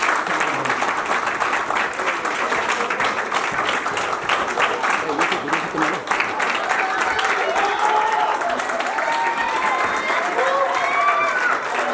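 An audience at a song launch event breaks into sustained, dense applause, loud and close, continuing steadily with crowd noise mixed in.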